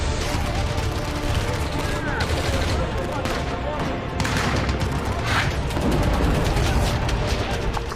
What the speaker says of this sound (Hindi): अफगानी फौज की अंधाधुंध गोलीबारी